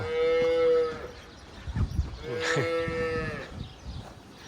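Calves on a dairy farm in Israel moo in drawn-out, close calls, two long bellows separated by rustling and shuffling movement in the pen.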